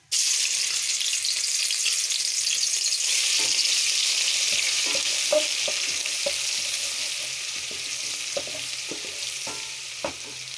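Steady, bright sizzling of green chilies, garlic and ginger frying in hot ghee, with occasional soft clicks of a spoon stirring the pan.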